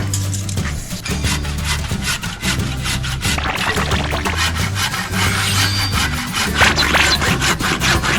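A large hand saw cuts through wood for a vegetable shelf in steady, rhythmic back-and-forth rasping strokes, loud and close, with a low background hum.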